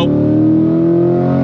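A 2023 Chevrolet Corvette C8 Stingray in full-performance Z mode accelerates at full throttle, a loud, close engine drone that climbs steadily in pitch for a second and a half.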